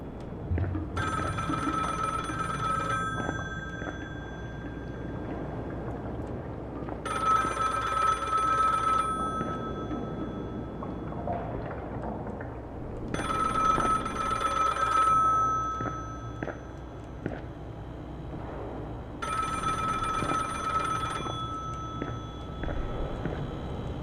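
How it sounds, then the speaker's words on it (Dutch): A telephone rings in the video game Strike from the Skies, with four long electronic bursts evenly spaced a few seconds apart over a steady game backdrop, loud and close, with no talking. "Oeh, telefoon."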